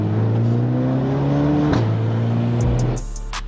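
A 2020 Mercedes A35 AMG with a custom stainless exhaust droning at steady cruise, engine tones rising then dropping, followed by a few faint clicks as it settles.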